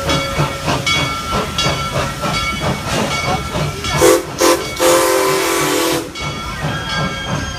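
Small passenger train ride at the Busch Gardens zoo area, with a rhythmic chugging and clacking, a loud hissing steam-like burst in the middle, and a sustained whistle-like tone, heard up close without talk.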